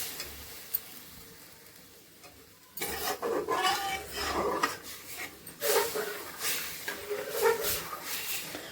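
Besan and lassi are stirred together in a pan over hot oil: scraping and gentle sizzling that starts quietly, then grows into steady, uneven rubbing strokes with soft clinks of the spoon.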